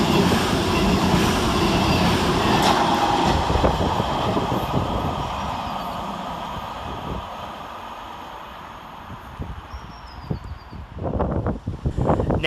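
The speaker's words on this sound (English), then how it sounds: "And going in the opposite direction is 220018 and 221140, working 1M38 from Bournemouth to Manchester Piccadilly." Two trains, units 220018 and 221140, pass through Smethwick Rolvenden... no—pass through Smethwick Rolfe Street station heading from Bournemouth to Manchester Piccadilly, a loud sustained rumble of wheels and engines that slowly fades, with rattling clatter near the end.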